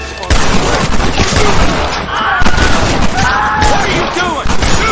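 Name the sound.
gunfire in video game Red Dead Redemption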